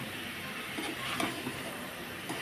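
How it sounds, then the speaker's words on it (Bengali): Cow head meat frying with spices in a pan, a dense steady sizzle and hiss with faint stirring scrapes throughout, no voices. "মশলার সঙ্গে কিন্তু মাথার মাংসটাকে কষিয়ে নিচ্ছি"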